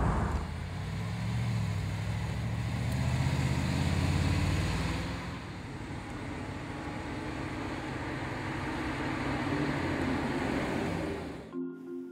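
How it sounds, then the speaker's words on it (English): A BMW 650i convertible's V8 engine gives a steady, deep, continuous rumble that swells slightly and then holds even, heard close and loud with no talking, before cutting off abruptly at the end. "Just wants to continually run and give some nice deep V8 rumble at that."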